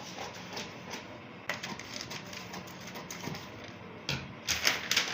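Scissors snipping through fabric while cutting out the front piece of a short knicker, a quiet steady run of crisp cuts with a few louder snips near the end.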